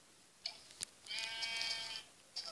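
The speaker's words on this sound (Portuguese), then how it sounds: "onde tem barulho de ovelha?" A sheep bleats in a game, one sustained wavering bleat in the middle with shorter calls before and after, clear and fairly close with no talk over it.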